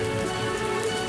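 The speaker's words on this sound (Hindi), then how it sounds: "अचानक तेज बारिश शुरू हो गई।" Heavy rain pours down on a farmer's field of nearly ripe crops, a dense, steady hiss of drops that stays loud and unbroken throughout.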